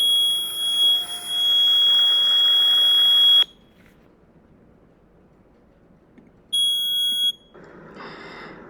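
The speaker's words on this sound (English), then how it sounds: "This switch also powers an LED light and buzzer when the water pump is on." An electric buzzer on an underground water pump circuit sounds with a steady, piercing high tone for several seconds, cuts off, then buzzes again briefly after a pause.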